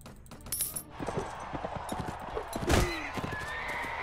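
A horse in the Mount & Blade Warband video game lets out a loud neigh amid clip-clopping hooves and scattered thuds and clanks of combat, with no talk over it.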